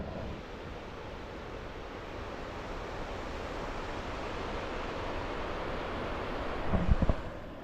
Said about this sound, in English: So, stopping by the river here.